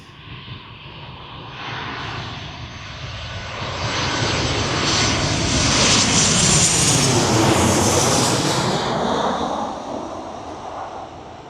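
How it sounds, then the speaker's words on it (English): A fixed-wing airplane comes in to land, its engine roar swelling steadily from a distance to a loud, broad peak overhead and then easing away as it passes, with some wind noise. "Something cool about watching planes landing"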